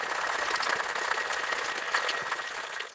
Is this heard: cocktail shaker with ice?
yes